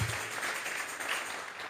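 A church congregation at a Spanish-language worship service claps together in praise, a soft, steady wash of applause throughout, fairly quiet and distant.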